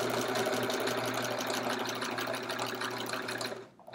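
A sewing machine fitted with a walking foot runs continuously while quilting a chevron quilt, a close, steady, rapid mechanical hum with rhythmic needle chatter that stops abruptly at the end.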